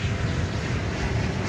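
An American Eagle CRJ 701 regional jet arriving at DFW Airport, a steady broadband engine roar held at even loudness throughout, close and alone with no talk.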